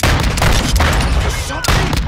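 Gunfire in a Call of Duty: Modern Warfare II Team Deathmatch match, loud dense bursts filling the whole stretch with a dip near the middle and a renewed blast toward the end.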